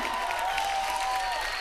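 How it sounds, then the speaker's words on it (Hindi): A studio audience on a Hindi comedy show gives brief, steady applause for two sisters coming on stage, heard as a soft, even wash of clapping. "तो जोरदार तालियां हमारी बहनों के लिए"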